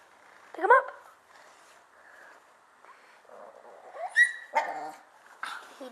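Two puppies bark and yip in a few sharp, close bursts spread apart, with quiet gaps and some talking around them.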